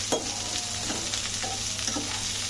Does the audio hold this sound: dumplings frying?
yes